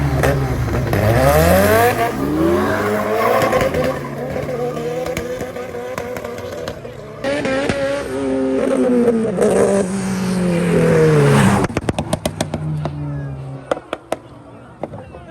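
A BMW and a Honda drag racing in a single run, engines revving hard and rising in pitch as they launch and pull away, loud and close, with a sharp burst of pops near the end.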